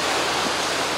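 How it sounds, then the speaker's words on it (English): Steady rushing water roars loud and close beside a coastal trail at Chance Cove, Newfoundland, a dense unbroken wash with no voices. "Just recording water."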